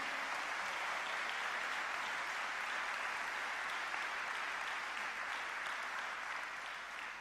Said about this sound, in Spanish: Bueno, puede aplaudir igual, ¿eh?